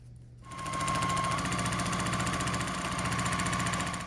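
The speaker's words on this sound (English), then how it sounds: "then I'll sew the other 2 side pieces together and put it onto the other side" A sewing machine stitches strips of a patchwork quilted placemat together, starting up and then running in a continuous, steady, rapid hum close by, with no talk.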